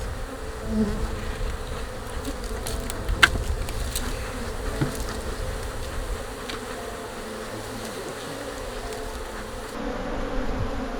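Honey bees buzz around an opened hive lid during an inspection, a dense, steady hum of many insects close by with occasional louder passes near the microphone.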